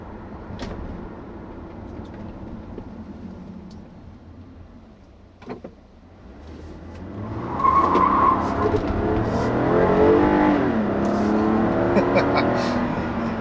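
A 2016 Toyota Camry XLE V6 accelerates hard after a quiet interior stretch, its engine note rising loudly through climbing revs with a brief tire squeal, heard from inside the cabin.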